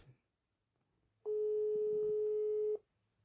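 A telephone busy signal rings as a single loud, steady tone for about a second and a half on an unanswered call, with faint room noise before and after.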